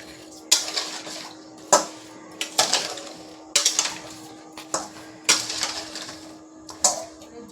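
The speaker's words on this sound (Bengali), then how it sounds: "চিনি সমেত সব আমগুলো দিয়ে দেবো এর ভেতরে, দিয়ে নাড়াচাড়া করতে হবে।" A spoon scrapes and clinks against a pan while mango pieces with sugar are stirred over low flame, a steady rhythm of sharp metallic knocks about once a second, close and alone.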